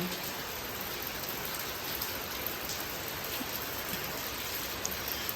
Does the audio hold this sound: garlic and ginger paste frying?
no